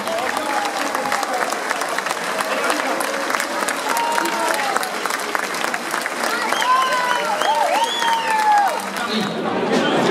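An audience at an evening show in Pierrefort applauds steadily for about ten seconds, dense even clapping mixed with a few cheers and whistles, and voices talk loudly over it.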